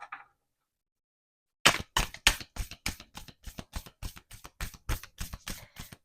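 Tarot cards shuffled by hand in a quiet room, a brief faint sound, a pause of silence, then a quick run of crisp riffling snaps, close and distinct, about a dozen sharp bursts.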